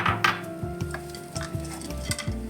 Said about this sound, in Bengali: হ্যাঁ, এই বাদামগুলো এখন এটার মধ্যে মিশিয়ে দেবো।